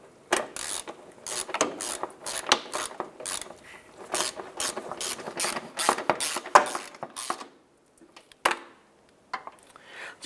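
A ratchet snugs down alternator mounting screws on a 2011-2019 Ford Fiesta, giving rapid close bursts of metallic clicking in quick strokes, with a few brief pauses and a final short burst.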